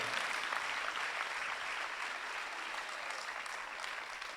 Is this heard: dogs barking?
no